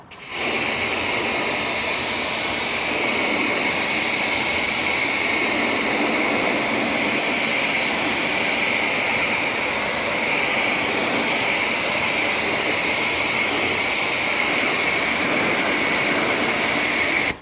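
Steady, close spray of water from a hose rinsing a car finished with C6 Ceramics Hydro Lite coating, a continuous broadband hiss that holds at an even, loud level throughout with no voices.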